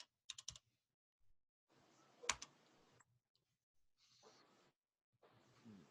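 Someone types on a computer keyboard: faint, close clicks and taps in short irregular bursts separated by quiet pauses, with one sharper louder keystroke in the middle.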